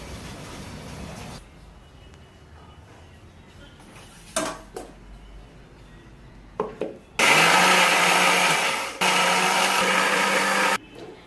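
A mixer grinder whirs loudly as it grinds spice paste, running in two sustained bursts with a brief pause between them, after quieter kitchen clatter and a few knocks.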